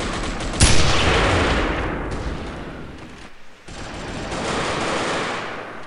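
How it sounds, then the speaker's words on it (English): Sustained automatic gunfire in the Delta Force: Black Hawk Down video game as crates are shot up. A dense, loud burst of rapid shots runs almost nonstop for several seconds, with a brief dip in the middle. "Oh, I was just shooting my gun up in the air so everybody would know where I was."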